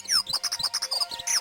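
Dunnock calls, short thin high chirps and trills repeated in quick succession, fairly clear and close with faint background noise.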